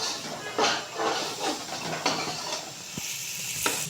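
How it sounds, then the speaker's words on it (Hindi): Green chilies frying in a pan for bhindi gosht, a steady hiss and sizzle with a few soft stirring scrapes, fairly close and with no voices. "ये देखो इसे थोड़ा सा इसे भून लेंगे।"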